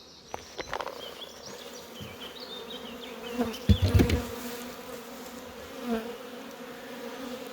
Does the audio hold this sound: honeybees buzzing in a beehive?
yes